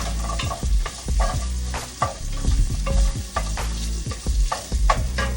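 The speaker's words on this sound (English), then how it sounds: "Onions begin to sweat." Onions sweat in a hot pan, sizzling and crackling steadily with a spoon or spatula scraping and stirring through them, close and continuous without talk.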